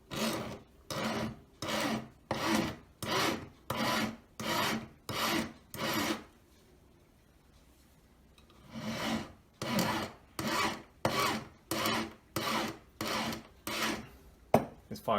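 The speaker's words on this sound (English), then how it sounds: "This file is coarse, but it's getting blunt. It doesn't file very quickly anymore." A coarse, somewhat blunt hand file rasps against silver in rhythmic back-and-forth strokes, about eight quick strokes, a pause of a few seconds, then another run of strokes, close and clear with no voices.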